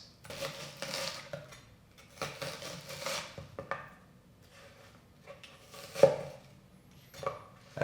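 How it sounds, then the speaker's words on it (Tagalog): A knife chops chili peppers quickly on a board in light, irregular taps and scrapes at close range, with one sharper knock midway. "Meron din tayo ditong sili. Chop lang natin na mabilis."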